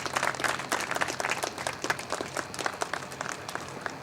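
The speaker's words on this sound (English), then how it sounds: "how about a nice round of applause for John Wilson, Denny Flanagan, the park board" Applause from the audience at the 2008 dedication of the Park Plaza clock tower, a steady, dense patter of many hands clapping that holds at a fairly even level throughout, with no voices over it.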